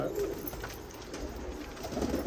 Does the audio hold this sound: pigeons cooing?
yes